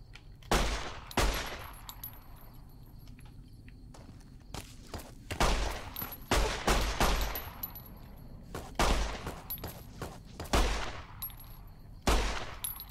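Gunfire in the video game Fallout New Vegas, a series of sharp, loud shots spaced irregularly, some in quick pairs or bursts, over a low game ambience.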